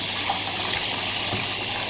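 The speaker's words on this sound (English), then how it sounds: "Mix some warm water in another tray for a second rinse" Warm water poured into a tray for rinsing clock parts from a Japanese 40-day wall clock movement, a steady loud gushing stream with no voices.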